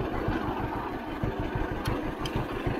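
A 1951 John Deere A tractor engine runs steadily close by, a low, even chugging throb held through the whole stretch, with two faint higher ticks partway through.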